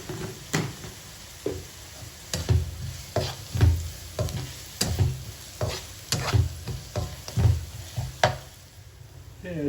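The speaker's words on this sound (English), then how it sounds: "So slowly fry it" Onions with a little salt slowly frying in a pan, a soft continuous sizzle broken by repeated scraping strokes of a spatula stirring them at a steady rhythm, close and clear with no voices.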